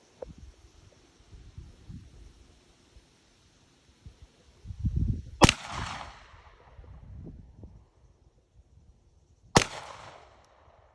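Two sharp pistol shots ring out outdoors, one in the middle and one near the end, each a loud crack with a short decaying tail, aimed at a single cigarette lying on the ground, with faint rustling and handling noises between them.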